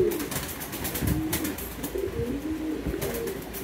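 Pigeons coo nearby in soft, repeated low throaty calls that overlap one another, with faint rustling in the background.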